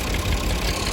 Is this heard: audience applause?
no